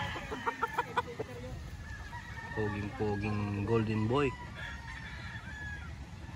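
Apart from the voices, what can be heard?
chickens, gamefowl at a game farm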